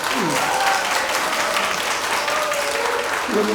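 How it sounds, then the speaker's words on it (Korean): Ceremony audience at a Liberation Day event claps in a steady, dense burst of applause, with a voice speaking briefly over it. "한번 큰 박수 한번 부탁드리겠습니다"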